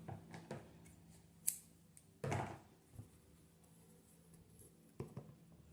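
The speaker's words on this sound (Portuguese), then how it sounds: "com ponto baixíssimo e cortar o fio" Scissors cut yarn while an amigurumi doll is being crocheted, giving a few quiet, close snips and handling sounds, one fuller crunch in the middle of an otherwise hushed stretch.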